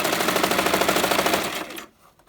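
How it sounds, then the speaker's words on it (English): A sewing machine stitches wig tracks together in a rapid, even mechanical rattle, close and loud, then stops abruptly near the end, leaving quiet. "I sew the tracks together so that the wig is full"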